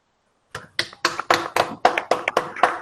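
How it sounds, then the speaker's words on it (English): Audience applause for a speaker named Yatish Somshekar: about ten loud, separate claps in a loose, uneven rhythm, close by, with no talk over them. "Please give a big round of applause for Yatish Somshekar."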